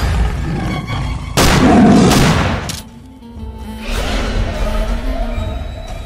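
Cartoon gunshot fired at a tiger in a Sundarban jungle scene, a sharp loud boom followed by a rumbling tail, with background scoring and ambient noise around it.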